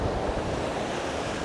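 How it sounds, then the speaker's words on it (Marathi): Rough sea surf crashes at Kashid beach on the Konkan coast as a loud, continuous roaring wash mixed with wind buffeting the microphone. No voices are heard. "ओके, समुद्र जाम खवळलाय"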